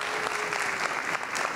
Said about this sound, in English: Round of applause for Colin